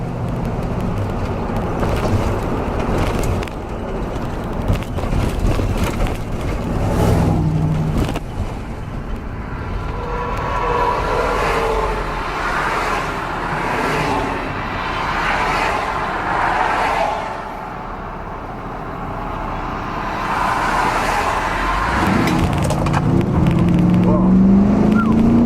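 A 1983 Buick LeSabre wagon with a swapped LT1 engine drives onto the highway, its engine and road noise droning steadily inside the cabin as it speeds up, with road and wind roar building toward the end.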